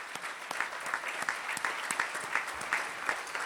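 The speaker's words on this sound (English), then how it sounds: "And a nice round of applause for all of them," Steady audience applause at an awards or welcome event, dense continuous clapping from a crowd at moderate distance, holding even for several seconds with no voices.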